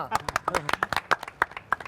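A short burst of hand clapping at a comedy show, sharp uneven claps from a few people mixed with voices.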